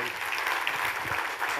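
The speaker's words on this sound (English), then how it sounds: "round of applause for Bipin" A conference audience at an industry panel session applauds a panelist, soft even clapping under a faint murmur of voices.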